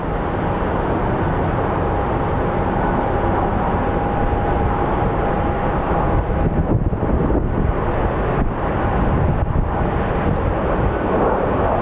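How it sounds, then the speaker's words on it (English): A jet airliner roars in on approach to land at Phoenix Sky Harbor International Airport, a loud sustained rumble with gusting wind noise buffeting the microphone. "this El Paso flight is going to be landing pretty smoothly"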